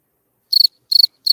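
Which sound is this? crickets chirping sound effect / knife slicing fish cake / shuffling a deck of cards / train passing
crickets chirping sound effect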